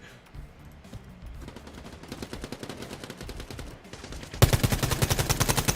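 Rapid automatic gunfire in the video game Quantum League, a quick even rattle that builds from faint to loud and turns into a sharp, dense burst near the end.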